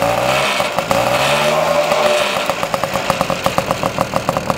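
A 1985 Safari Turbo moped engine, a barn find being started for the first time, sputters to life and settles into an uneven, putt-putting idle close by.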